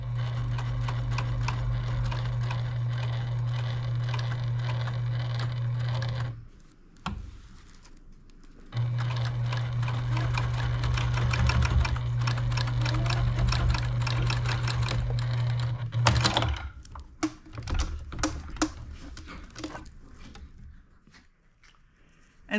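A sewing machine stitches a fruit-shaped potholder with a steady, loud, close mechanical whir and rapid needle clatter, pausing briefly partway through, then resuming before stopping with a few handling clicks and rustles.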